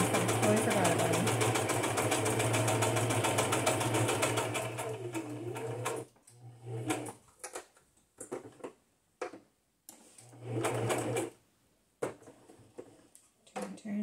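A sewing machine stitches pink thread onto junk journal cards in a steady, rattling whir for several seconds, then gives short back-stitch bursts with pauses as someone talks quietly between them.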